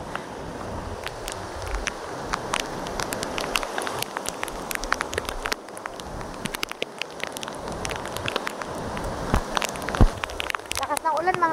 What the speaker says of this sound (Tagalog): Lakas ng ulan mga kapain yun.